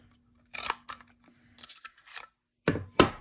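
A paper punch cuts through cardstock in a few sharp, crisp clicks and crunches, close and isolated, with quiet pauses between them.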